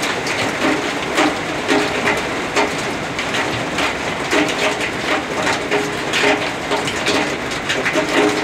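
Steady rain falling in Savannakhet, a dense continuous patter with scattered sharper drops and splashes throughout, fairly loud and close with no talking.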